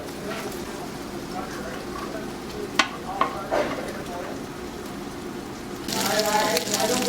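Bacon frying in a pan at a cooking class, a low steady sizzle under people talking, with a few clatters and a louder surge of spitting fat toward the end.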